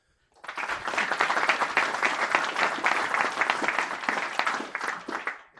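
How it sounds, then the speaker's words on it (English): A meetup crowd at Riot Games applauds its speakers: steady, dense clapping that starts abruptly, holds loud and even for about five seconds, then starts to taper. "A second round of applause for our speakers."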